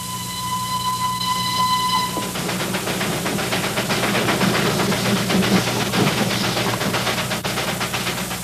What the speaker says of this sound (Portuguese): Essa incrível locomotiva, construída há mais de 70 anos, precisa de 6 homens para funcionar